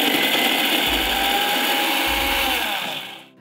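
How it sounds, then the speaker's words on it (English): A kitchen blender grinding garlic, ginger, cumin and turmeric into a smooth paste gives a steady loud whirring roar with two short deeper pulses, then winds down and stops. "now I'm going to grind this into fine and smooth paste."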